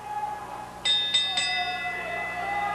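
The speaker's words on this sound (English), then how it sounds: "we have the bell for the start of this match" Three quick, ringing strikes of the starting bell open a wrestling match at a televised NWA Southwest event, sharp and fairly close, with the ring tone lingering afterward.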